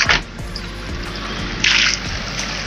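Water from a river spilling across a road in a steady rushing trickle, with a few louder splashes and gushes standing out briefly.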